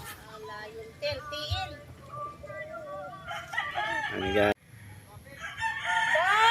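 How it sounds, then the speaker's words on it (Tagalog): Several roosters crow, overlapping and some near, others farther off, amid clucking, with someone speaking briefly. "Dami dito guys, mga manok."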